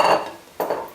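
Flour going into a gingerbread mixture in a bowl, with a soft clink of a utensil against the bowl early on and a second clatter later, close up with no talk.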